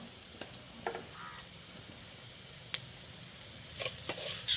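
Garlic fries in a pan with crushed cumin and pepper for a garlic kuzhambu. A faint, steady sizzle carries a few sharp ticks and swells a little louder near the end.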